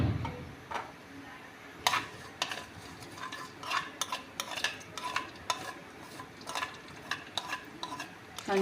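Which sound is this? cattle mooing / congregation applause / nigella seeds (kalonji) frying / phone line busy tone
nigella seeds (kalonji) frying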